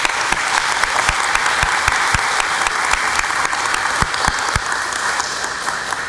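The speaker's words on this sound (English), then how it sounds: "Finnegan a round of applause, please" An audience at a school National Junior Honor Society induction ceremony applauds Ms. Finnegan, with steady dense clapping and a few sharper individual claps standing out, loud and sustained throughout.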